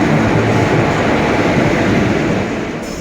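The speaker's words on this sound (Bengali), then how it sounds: "চলে এসছে আমাদের ট্রেন।" A train pulls into a station with a loud, continuous rumble of wheels and carriages close by. The noise eases slightly toward the end, and no voices are heard.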